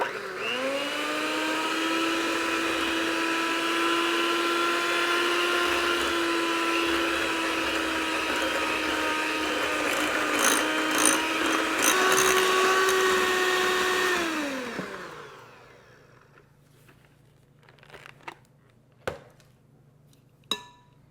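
Electric hand mixer beating eggs with finely ground semolina flour and cornstarch for a Greek custard pie, a steady whirring motor drone with a higher whine that runs evenly and then winds down and stops, followed by a few light knocks.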